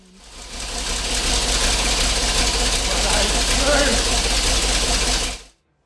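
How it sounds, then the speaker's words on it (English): A restored 1975 Bedford truck engine idles loudly with a steady, even rattle for several seconds, then cuts off abruptly into silence. "so good to hear that engine running again"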